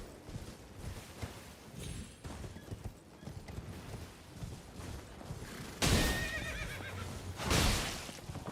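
In the Elden Ring video game, a horse's hooves clip-clop steadily, then two loud neighs burst out over the rhythmic footfalls near the end.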